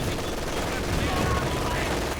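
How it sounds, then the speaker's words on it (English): Sustained machine gun fire from a Company of Heroes 2 battle on a road, a dense unbroken clatter of rapid shots holding steady loudness throughout, with speech-like sounds mixed faintly underneath. "we get pinned by the machine guns in the middle of the road here"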